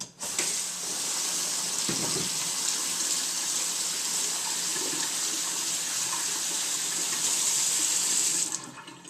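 Tap water runs steadily and close into a kitchen sink as beans are rinsed for a gluten-free dish, a continuous loud splashing rush that stops abruptly near the end.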